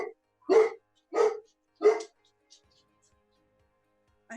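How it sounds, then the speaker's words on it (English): Dogs bark three times in close succession, then a faint yip follows, fairly near and loud over quiet background during a remote meeting. "sorry, I have barking dogs."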